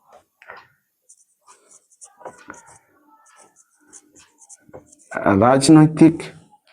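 Notes are written by hand during a lesson, with short, scattered scratchy pen strokes on paper, faint and close, before a voice speaks.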